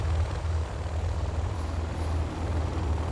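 Helix helicopters from the Command & Conquer Generals video game, damaged and smoking, give a steady low rotor drone that holds loud and continuous throughout, with a faint high whine above it and no talking.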